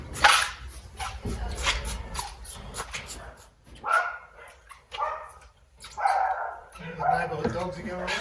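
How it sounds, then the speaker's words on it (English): Neighbourhood dogs bark and yip repeatedly in uneven bursts from some distance away, mixing with someone talking throughout near a car being cleaned outdoors. "The neighbourhood dogs are going around."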